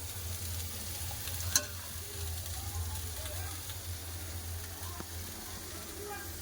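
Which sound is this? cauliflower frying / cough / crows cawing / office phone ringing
cauliflower frying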